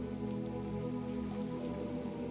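Steady rain patters continuously on surfaces through a gray midday downpour, with soft sustained musical tones beneath; no one speaks.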